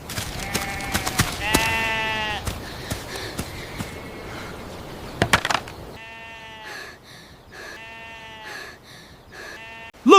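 A flock of sheep bleats loudly and close by, with repeated wavering cries from several animals that overlap one another and then break off, followed by further separate bleats.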